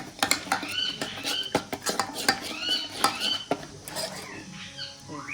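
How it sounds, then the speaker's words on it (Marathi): A spoon scrapes and clinks against a metal pot while masala and black pepper powder are mixed in, a quick irregular series of close metallic taps and scrapes that thins out near the end, with no voices. "थोडीशी काळी पूड टाकते. आणि काळी पूड सगळं आता मिक्स करूया."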